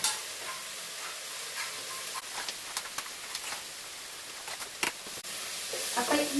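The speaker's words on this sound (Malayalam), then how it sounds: "ഈ തേങ്ങ വറുക്കുന്ന സമയത്ത് ഒഴിച്ച് വറുക്കരുത്" Grated coconut dry-roasting in a pan for a chicken curry, giving a steady soft sizzle with scattered scraping stir strokes, moderately close and alone.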